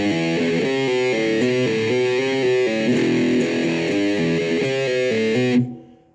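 Slow distorted electric guitar riff in a metal style, played with hammer-ons and pull-offs as a steady run of quick separate notes, loud and alone, ending with the strings muted to silence.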